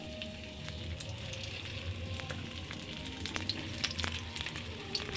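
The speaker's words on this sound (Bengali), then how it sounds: "এদিকে ফুলকপি ভাজা বসিয়ে দিয়েছি" Cauliflower pieces fry in a pan, a steady close sizzle of hot oil with small pops and crackles scattered throughout.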